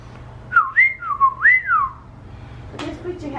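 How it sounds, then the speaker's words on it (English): A BB-8 droid toy whistling like R2-D2 gives a run of clear, loud, gliding whistle chirps, followed by brief rustling noise at the end. "That's actually, that's an R2 whistle, isn't it?"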